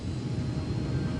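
British Airways airliner departing Birmingham, England, a steady loud roar of engines with broad rumbling noise, continuous and unbroken, no voices.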